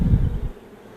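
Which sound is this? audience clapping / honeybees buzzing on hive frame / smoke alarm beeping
honeybees buzzing on hive frame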